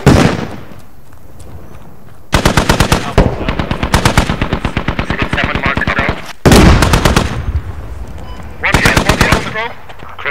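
Loud, close bursts of rapid automatic gunfire from a military video game, with long rattling volleys separated by short pauses.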